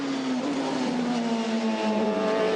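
Lola prototype race cars at Spa during the 2009 Le Mans Series 1000 km, engines roaring close and loud with a steady high-revving whine that slowly drops in pitch as a car passes.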